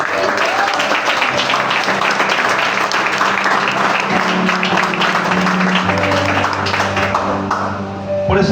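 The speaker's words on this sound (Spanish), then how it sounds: "Den un aplauso al Señor." Congregation applause in a church service, a dense wash of clapping filling the whole stretch, with sustained musical tones from instruments or organ running underneath and a few voices mixed in.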